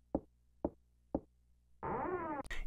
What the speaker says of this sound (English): The only sound you hear is the echo of footsteps.